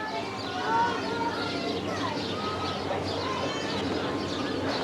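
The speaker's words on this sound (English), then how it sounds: "They're talking to the other birds." Birds coo and chirp close by in a busy, continuous chorus, with faint voices murmuring underneath.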